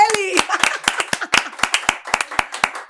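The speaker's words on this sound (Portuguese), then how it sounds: "Eita, vamos aplaudir ele!" Clapping for a guest on a podcast sounds as a string of sharp, close handclaps in a loose, uneven rhythm from a small group, with a voice briefly heard at the start.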